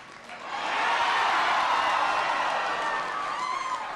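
A crowd at a political rally in Kotzebue cheers and applauds, a broad wash of clapping and whoops that swells quickly and holds steady throughout.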